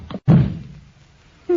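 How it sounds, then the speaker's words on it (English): A door slams shut as a sound effect in a 1940s-style radio crime drama, one heavy close thud with a short dull tail, preceded by a faint voice and followed by a brief voiced sound. "You shouldn't have slammed the door, Crane."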